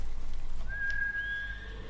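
A white horse in the video game Ghost of Tsushima whinnies once, a rising, whistling neigh over a low steady background hum.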